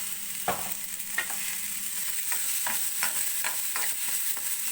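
Cumin seeds fry in hot oil with a steady hiss under regular scraping strokes of a spoon stirring the pan, close and with no speech.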